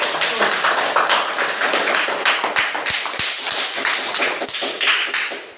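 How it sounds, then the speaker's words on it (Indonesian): A classroom group claps together for a student group in a steady burst of applause, close and fairly loud, with a few sharper thumps near the end. "Kita kasih tepuk tangan untuk kelompok Markus"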